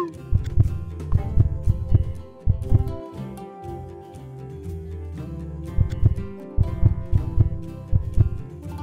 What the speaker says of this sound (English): Mother heartbeat is normal.